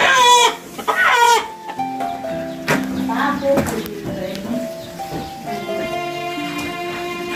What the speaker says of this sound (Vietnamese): Hai con gà này là hai con gà rất đẹp trai đấy.